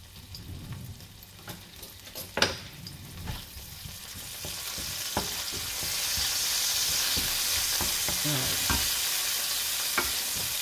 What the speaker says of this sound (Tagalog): Igigisa natin yung bawang.